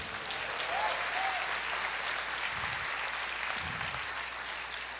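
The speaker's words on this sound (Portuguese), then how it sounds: "pode aplaudir o Senhor" Church congregation applauding during a sermon, a dense, even wash of clapping that continues for about five seconds at moderate distance, with no speech over it.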